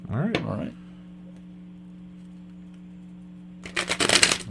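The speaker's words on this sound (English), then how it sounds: "I'll start a shuffle for you here." A short burst of cards being shuffled at the start, then a steady low hum, and another quick riffle shuffle near the end.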